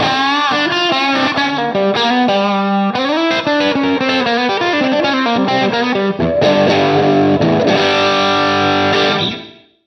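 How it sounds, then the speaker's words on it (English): Crunchy, overdriven electric guitar chords through an Orange Rocker 15 combo amp ring out loud and sustained, strummed with a gritty edge before fading out at the end. "we can go from very kind of clean and chimey through to some great crunch tones"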